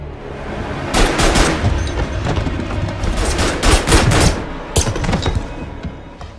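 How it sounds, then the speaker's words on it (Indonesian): Rapid gunfire erupts in an action film scene as gunmen shoot at a bed. Several loud, close bursts of shots crack one after another, with short gaps between volleys. "gerombolan orang misterius itu menembaki ranjang yang mereka anggap ditiduri oleh John"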